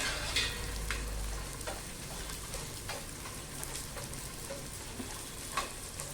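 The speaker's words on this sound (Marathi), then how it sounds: "अगदी बेताच्या तुपामध्ये डिंक तळायचा" Edible gum pieces fry in a little ghee in a kadhai, giving a steady soft sizzle with occasional brief crackles and pops.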